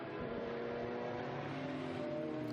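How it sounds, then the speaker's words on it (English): Chevrolet Corvette Z06 historic race car at Estoril Classics racing, its engine note droning steadily and loudly as it drives past the circuit, with no talk over it. "Here's the Chevrolet Corvette."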